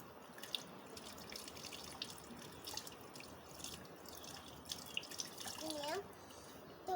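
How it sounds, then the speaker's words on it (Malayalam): Water is poured over a child's hands during handwashing, producing a steady trickling and splashing flow with occasional drips, moderately quiet and continuous. "വെള്ളം ഒഴിക്കുക"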